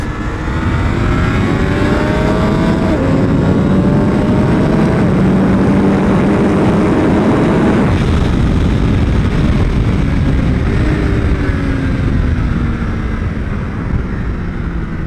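A loud, continuous engine roar from a Triumph Daytona 765 Moto2 sport motorcycle at speed on a race track, its pitch climbing and dropping through gear changes without a break.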